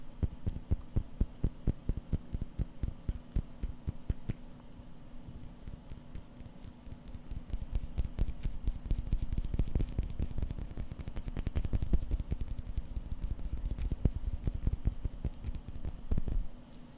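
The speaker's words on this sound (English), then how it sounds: "if I tap it hard enough, you can kind of hear the movement inside moving a little bit" Close, repeated tapping on a Seiko SBDC053 dive watch, a steady run of small taps with a low, hum-like tone behind them, picking up and growing fuller in the second half, with no talking.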